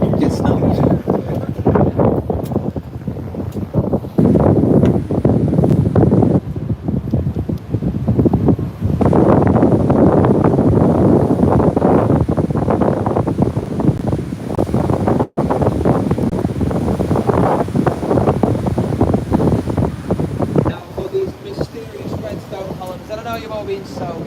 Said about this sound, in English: Very excitable waves.